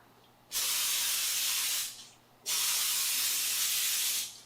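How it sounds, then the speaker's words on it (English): Two long hissing bursts from a spray bottle of olive oil onto tomatoes, close and loud, with a brief pause between them. "Now I'm just spraying a little of this olive oil on top."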